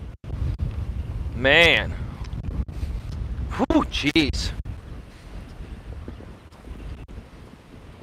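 Strong outdoor wind buffets the microphone in loud, uneven rumbling gusts throughout, while someone talks and exclaims briefly over it.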